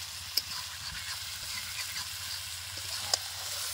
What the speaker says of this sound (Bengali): তাহলে এখন যতক্ষণ না তেল ছেড়ে ততক্ষণ কষাতে হবে তো?